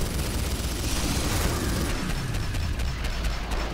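Dense, continuous gunfire in the zombie shooter game Killing Floor on the Mountain Pass map: rapid overlapping shots forming a loud, unbroken fusillade with no talk.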